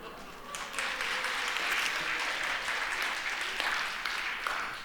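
A church youth-service audience breaks into applause, a dense burst of clapping that swells quickly and holds steady for several seconds.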